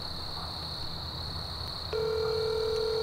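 A phone call placed on speakerphone: a steady electronic tone hums, then a second ringback tone switches on partway and holds, close and clear with no voices.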